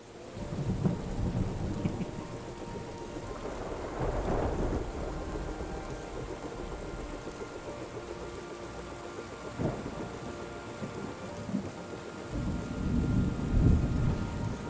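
Steady, heavy rain pours throughout while low thunder rumbles roll in and out, with no voices, in the video game Terra Nil.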